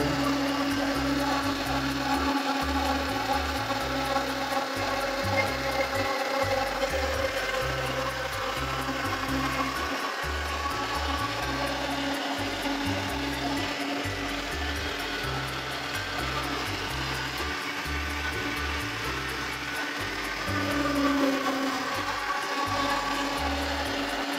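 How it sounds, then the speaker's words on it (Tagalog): A grinder grinding boiled cassava runs with a steady, loud motor drone and a rough churning texture, chopping unevenly in pulses throughout with no speech. "Kapag malambot na po ang ating kamoteng kahoy, igigiling naman natin ito."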